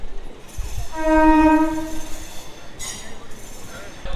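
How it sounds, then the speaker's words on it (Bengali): A local EMU train pulls into a platform on the Howrah–Digha line, a sustained horn tone standing out over the low rumble of rail noise and station ambience at moderate distance. "প্ল্যাটফর্মে ঢুকছে ট্রেন"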